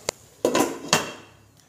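A lid set over a pan of potol posto on low heat: a light tap, then two clattering metal clanks as the cover settles, close and brief.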